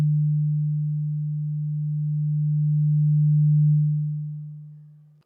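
A synthesized pure low sine tone shaped by an exponential amplitude envelope, holding steady with a very slight swell in loudness before fading away over about five seconds, alone with no other sound.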